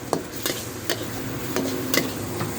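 Steady sizzling in a hot wok as holy basil leaves are stir-fried, with periodic sharp scrapes and taps of a spatula stirring, no voices.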